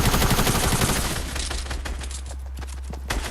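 Rapid gunfire in a Fortnite battle, a dense loud volley of close shots at the start easing into scattered cracks over a steady low hum.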